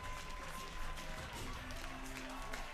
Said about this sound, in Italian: A loro va l'applauso del Ridolfi.